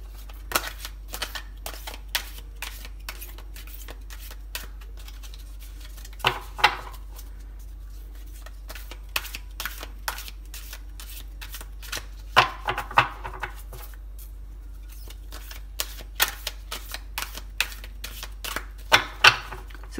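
Tarot cards being shuffled by hand three times, a run of quick dry riffling flicks and soft papery slaps in close, quiet bursts with brief pauses between.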